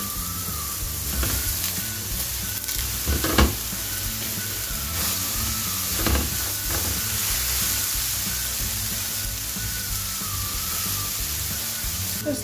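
Salted eggplant fries in an oiled wok on an Indonesian home stove, with a steady close sizzle and a few louder crackles and stirring scrapes throughout.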